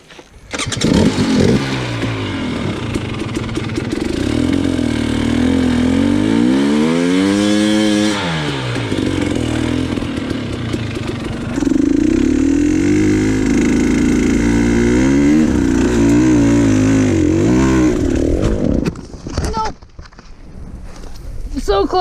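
A KTM 150 XCW two-stroke dirt bike screams loudly on a hill climb, its revs rising and falling as the back tire spins and loses grip, with people talking over the engine before it cuts out near the end.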